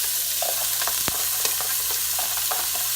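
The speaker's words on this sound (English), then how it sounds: "So I'm going to go ahead and throw my onion and my jalapeno in." Onion and jalapeño frying in a teaspoon of olive oil, a steady close hiss and crackle with occasional scrapes and taps of a spoon stirring the pan.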